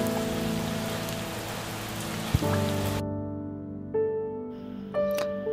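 Steady rain pours during a bike ride toward Kaptai Lake, a dense hiss over a droning hum that cuts off abruptly midway, leaving only quieter tonal sounds.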